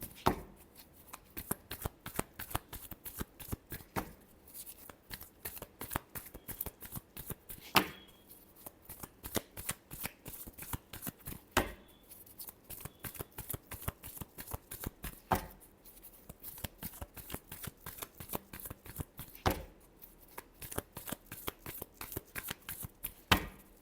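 Tarot cards shuffled by hand in long runs of fast riffling clicks, close and steady, broken by short pauses and sharp taps as the deck is squared, with no talking.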